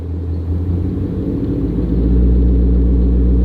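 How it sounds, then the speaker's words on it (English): A manual-transmission car's exhaust rumbles in a deep, steady idle-like drone as the clutch is slowly let out without gas, the low rumble swelling slightly louder toward the end, close and continuous with no talking. "Right there you can hear the car. The reason I picked this car is because you can hear this car because of the exhaust."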